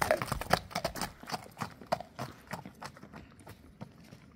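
A purebred Kyrgyz horse walking, its hooves striking in an even clip-clop rhythm close by, fairly quiet and gradually receding.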